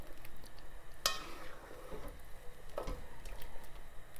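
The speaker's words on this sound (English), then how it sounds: "And so we'll get that stirred in very nicely." A spoon stirs garam masala, chili powder, vinegar and sugar into butter chicken in a pot, making soft, wet scraping and squishing sounds with a sharp clink against the pot early on, quiet and close, with no speech.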